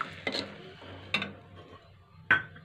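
Chopped vegetables are stirred into a thick batter for veg manchurian. Close, wet mixing sounds carry three distinct scraping clunks against the bowl, with no talking.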